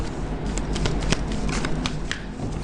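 Playing cards shuffled close up, a quick run of crisp riffling flutters and snaps, loud and alone without speech.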